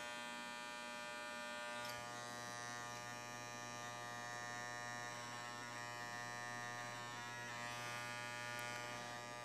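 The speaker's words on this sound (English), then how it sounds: "Let the clipper work." Electric hair clipper buzzing steadily at close range while cutting a hard part into a comb-over haircut, a constant harmonic drone with a slight shift in pitch as it presses into the hair.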